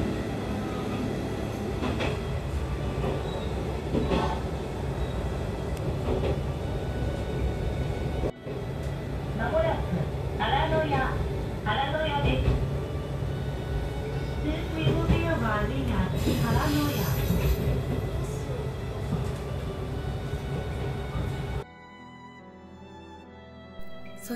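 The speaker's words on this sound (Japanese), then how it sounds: "そして列車は原の矢駅に到着。" A Tenryū Hamanako Railway train rolls steadily along the rails with a continuous rumble and occasional wheel clatter, heard from on board while a voice talks at times.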